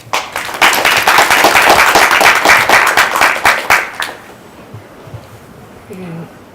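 An audience at a career mentoring session breaks into loud, dense applause that lasts about four seconds and then stops, followed by quiet room sound and faint voices.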